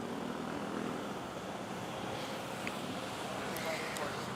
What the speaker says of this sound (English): Watch this, Malaysian 77-8, have a smooth takeoff